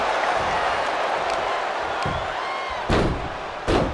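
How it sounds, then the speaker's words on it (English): A kick to the body lands in the WWE 2K25 wrestling video game, heard as two sharp broadband impacts late in the clip over a steady arena crowd roar. "Kick to the body."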